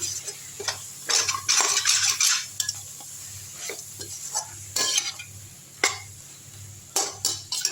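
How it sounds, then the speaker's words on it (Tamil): Quail fry masala sautéing in a pan: irregular bursts of spoon scraping and clinking against the metal over a soft, steady sizzle, close and moderately loud. "ஒரு அஞ்சு நிமிஷம் ஆயிடுச்சு வதக்கி விட்டுடலாம்"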